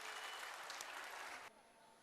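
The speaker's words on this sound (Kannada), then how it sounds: "ಜೋರಾದ ಚಪ್ಪಾಳೆಯ ಮೂಲಕ ಅವರನ್ನು ಸ್ವಾಗತಿಸೋಣ." An audience at a school annual day celebration claps in a dense, steady burst of applause that stops abruptly about three-quarters of the way through, leaving a quiet room tone.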